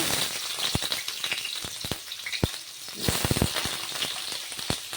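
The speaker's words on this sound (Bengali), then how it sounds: "এবার এই যে কেটে রাখা আলুগুলোকে ভেজে" Cut potatoes frying in hot oil in a wok, a loud, continuous crackling sizzle with scattered sharp pops, up close throughout.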